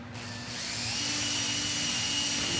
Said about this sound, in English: So I'm going to pre-drill that now.